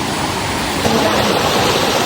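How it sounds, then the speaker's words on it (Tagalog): A mountain river rushes past close by, a loud, steady broadband wash of flowing water that continues without a break and with no voices. "ito yung pangalawang ilog na aming tatawirin"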